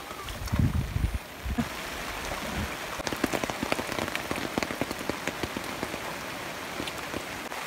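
Steady rain in Lunglei, Mizoram, India patters and drips on surfaces nearby, with a few dull thumps near the start.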